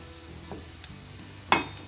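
Potatoes frying in hot oil on a stove, with a steady low sizzle and a brief sharp clatter near the end as the pan is moved.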